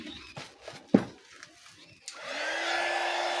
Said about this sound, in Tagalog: Painitin mo natin blower.